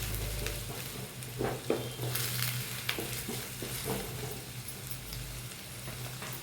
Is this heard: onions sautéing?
yes